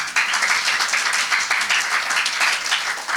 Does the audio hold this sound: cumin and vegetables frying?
no